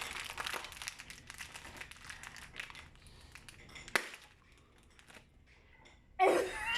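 A bag of chocolate chips being torn open with teeth: a run of close, crinkly plastic rustling and crumpling, a brief pause, then a louder tearing rip near the end, with faint background talk.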